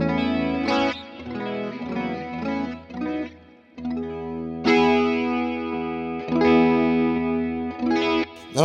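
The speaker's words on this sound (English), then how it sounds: "that to me is a lovely chorus sound" A clean electric guitar plays chords and single notes through an MXR Wylde Audio chorus pedal, shimmering with a slow wavering swirl and lingering echo.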